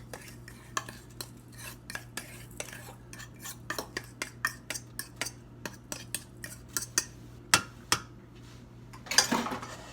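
Crumbly cheesecake crust mixture being tipped and scraped into a cheesecake pan for a homemade pumpkin cheesecake, a quick run of light clinks and taps of utensil on pan, close and fairly quiet.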